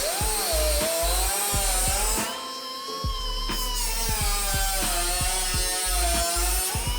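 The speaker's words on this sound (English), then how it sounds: "So I'm taking a minute here to cut some metal," A power tool cuts sheet metal for a car body repair, a loud whining tone with pitch drifting up and down, punctuated by a rapid series of regular rhythmic clicks or ratcheting pulses.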